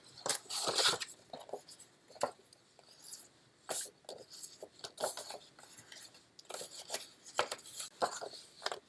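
Paper sockets for a slider being cut out by hand, with quiet close scraping and snipping strokes in an irregular rhythm, some sharper cuts standing out, no talking.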